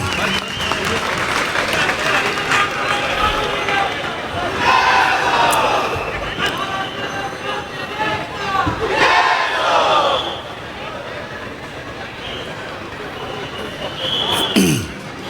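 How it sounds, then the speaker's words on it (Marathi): A big crowd at an election campaign rally in Vikhroli applauds and cheers loudly to welcome Raj Thackeray, with sustained clapping and shouts swelling in waves, and voices call out over the din. "सर्वांनी जोरदार टाळ्या वाजवून त्यांचं स्वागत करत आहे"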